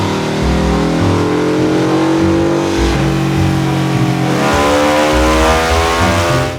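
A Ducati 999R motorcycle revs hard on a dyno, its loud close engine climbing and falling in long pulls, easing briefly near the middle before revving up again.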